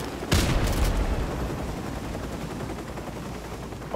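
Gunfire in Modern Warfare Remastered, with one loud, close burst near the start that decays into a sustained rumbling battle wash for the rest of the clip.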